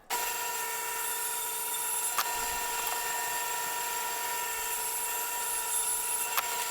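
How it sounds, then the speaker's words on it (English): A table saw rips zebra wood into two strips, a steady high whine with strong tonal hum holding at an even level throughout, with a couple of brief ticks. "I made the design decision to rip that piece of zebra wood into two strips, and so I'm doing that on the table saw here"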